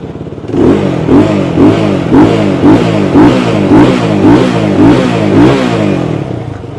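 A 2020 Benelli TRK 251 motorcycle engine idles close by with a rhythmic, throbbing pulse, rising slightly in steady repeated revs.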